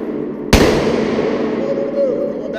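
A single sharp, loud handgun shot cracks out at an outdoor firing range during a private tactical shooting course, followed by a long ringing decay, with a voice faintly underneath.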